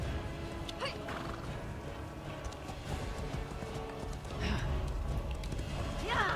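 A horse in The Elder Scrolls Online trots with steady hoof clops under game ambience and music, letting out a couple of whinnies along the way.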